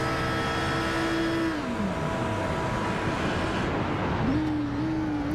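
Onboard race car engine in a sim racing esports endurance event, a loud steady drone that drops in pitch as the driver lifts and coasts, then climbs again as throttle returns.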